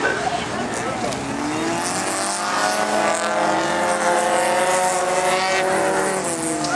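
A race car speeds by during a heat race, its loud engine whine rising and falling through the gears as it passes. A commentator talks excitedly over the engine noise.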